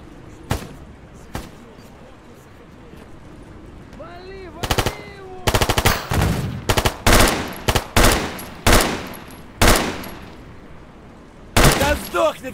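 Gunfire in the video game Stalker Gamma as bandits are shot: scattered single shots, then dense bursts of loud automatic fire in rapid clusters, with someone talking between volleys.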